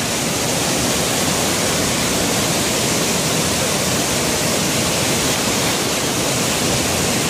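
Flash-flood water rushes down Sungai Tekala, a loud, dense, unbroken roar of torrent with no pauses, close and overwhelming throughout, with no voices.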